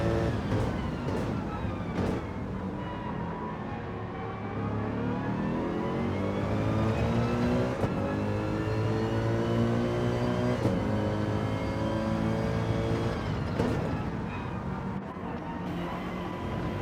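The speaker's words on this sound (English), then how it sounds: "Looks like some good acceleration coming from that RX Vision." A Mazda RX-Vision Gr. 3 race car accelerating in a racing video game, its engine whining steadily upward through repeated gear changes, with brief shift breaks and a continuous loud, close drone.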